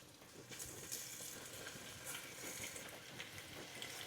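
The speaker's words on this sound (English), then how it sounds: "2 tablespoons of oil. So just put in the marinated beef." Marinated beef fries in two tablespoons of oil in a pan, giving a steady, fairly quiet crackling sizzle with scattered pops that carries on evenly throughout, with no voices over it.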